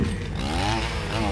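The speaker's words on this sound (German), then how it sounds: "Nimm die Kettensäge!" Cartoon chainsaw revving in a zombie-apocalypse animation in Dick Figures style, a loud buzzing engine whine that rises and falls across the short moment, mixed with shouting voices.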